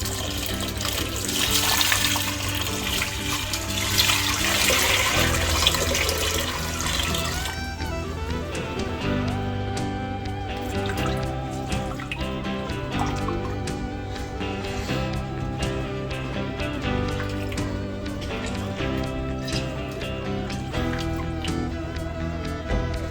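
About two quarts of water pours steadily into a brine of salt, sugar, peppercorns, bay leaves and chili flakes, a loud rushing stream for several seconds that then fades under continuous background music.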